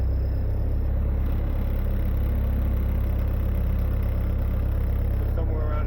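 A 1927 Ford Model T engine runs steadily throughout, a continuous low rumbling idle close by with no clear revving.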